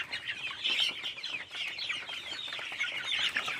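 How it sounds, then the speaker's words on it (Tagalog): Chickens clucking in their pen while being fed, a dense, continuous chorus of many birds at moderate distance, soft and steady with no talk. "papakain ng mga manok oh"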